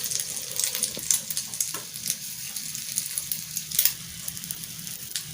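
Bread omelet frying in a pan, a steady close sizzle with small crackling pops throughout.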